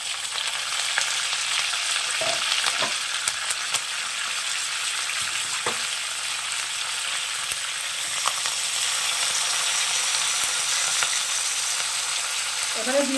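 Fennel seeds and curry leaves fry in oil for Kashmiri red chilli pickle, making a loud, continuous sizzle close by. A few faint clicks and a brief clatter sound near the end.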